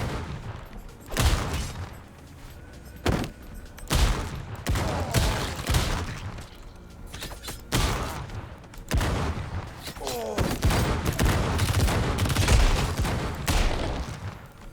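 Shotgun blasts from the video game Madness: Project Nexus go off in rapid, heavy bursts across the stretch, dense and loud, with game effects and a voice mixed in.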